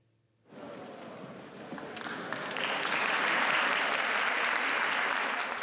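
Crowd applause at a ceremony marking the arrival of a figure who could sign Chile's proposed new constitution. It starts abruptly after a moment of quiet and swells into sustained, growing clapping with no speech.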